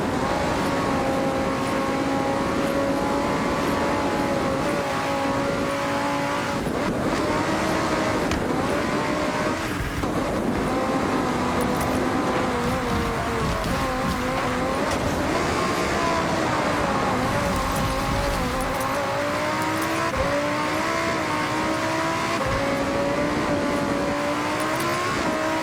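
Lamborghini Huracan Sterrato on all-terrain tires racing down a mountain ski run in Forza Horizon, a loud continuous engine drone with revving and pitch swings as it accelerates and shifts, heard alone without speech.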